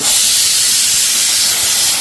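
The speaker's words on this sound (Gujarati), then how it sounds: "ચલો સીટી વાગી ગઈ" Pressure cooker whistle releasing steam while potatoes boil in a home kitchen, a loud continuous hissing blast that fills the whole clip without pause.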